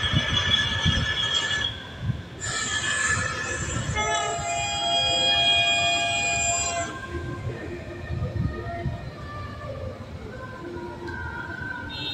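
Train sound effect in a Bengali audio drama: a loud rumbling run of wheels on track with long horn or whistle tones sounding over it, steady and close, no speech.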